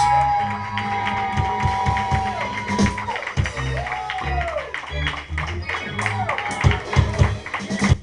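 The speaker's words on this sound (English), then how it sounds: "You better give me a round of applause" A church congregation claps, cheers and whoops together in a loud, dense burst, voices calling out over the continuous applause.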